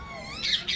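Birds in a large flock at a zoo in Riyadh, giving two short, loud, rasping squawks over a soft background murmur.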